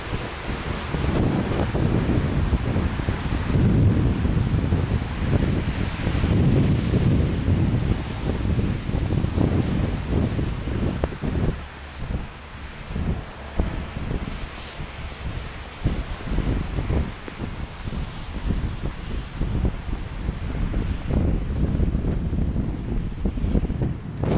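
Baltic Sea waves and wind on the shore at Jurmala, Latvia, a constant rushing roar with gusty buffeting against the microphone, surging and easing in long swells, no voices.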